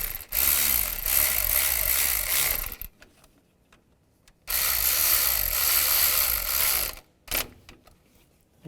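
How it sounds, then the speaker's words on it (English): A ratchet tightening thermostat housing bolts on a 2005-2010 Chevrolet Cobalt, two long bursts of rapid clicking separated by a pause, then a brief final burst, loud and close with no talking. "Now tighten these down."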